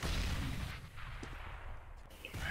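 Gunfire from Counter-Strike: Global Offensive during a competitive league match, loud bursts of shots at the start and end with a sustained rumble of game noise between them.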